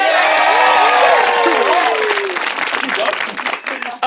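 A studio audience at an improv comedy show bursts into loud cheering and applause that swells, then tapers off over about four seconds.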